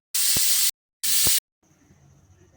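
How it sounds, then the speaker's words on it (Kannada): A pressure cooker releases steam in two loud hissing whistle bursts with a brief gap while boiling potatoes, followed by quiet kitchen background. "ಕುಕ್ಕರ್ ಮುಚ್ಚಳನ ಮುಚ್ಚಿ ಎರಡು ವಿಜಲ್ ಕೂಗಿಸ್ಕೋಬೇಕು"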